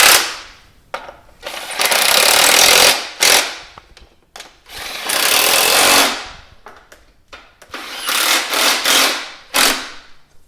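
Socket wrench tightening ignition coil bolts on a Dodge Neon engine, heard as several loud, sustained bursts of rapid ratcheting with short pauses between them, close up and with no talking.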